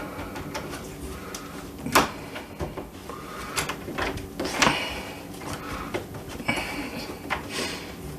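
A door knob latch is test fitted against a door strike, giving a few sharp metallic clicks and knocks amid quieter handling rattles, close and separate.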